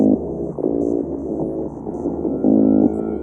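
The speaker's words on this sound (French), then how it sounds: "Et voici le bruit du poisson appelé maigre," Meagre fish calling in the breeding season: throbbing, low drumming bursts that swell and fade over a droning background, with two louder pulses near the start and end.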